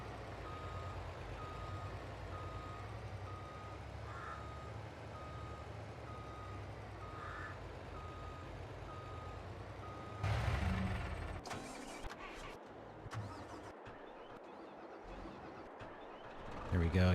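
Wheel loader in the Farming Simulator 22 video game sounding a steady, repeating reverse-warning beep at an even rhythm over an engine drone, later joined by louder clattering machine noise.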